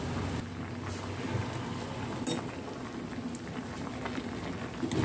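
Hakka noodles cook in salted water in a pot over a high flame. The water boils at a steady, constant roll, close by, for a few seconds with no voices.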